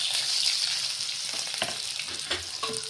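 Onion dropped into hot oil with garlic for spicy broccoli, a strong bright sizzle with a few stirring knocks and scrapes against the pan.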